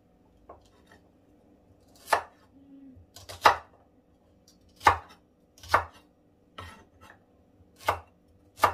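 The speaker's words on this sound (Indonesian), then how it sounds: "Bawang merahnya kita potong-potong dulu." Knife chopping shallots on a board for a spicy chicken-feet dish, sharp separate chops in an uneven rhythm, about eight clear strikes spread out with short pauses, close and alone without talk.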